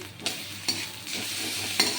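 Ginger paste sizzles in a hot pan with a soft continuous hiss, broken by a few sharp scraping stirs of a spoon.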